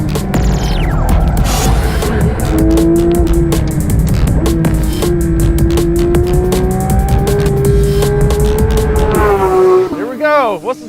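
A very fast car at speed on a race track, loud engine throb building close by, with sharp ticking and clattering over it, then quickly dropping away at the end.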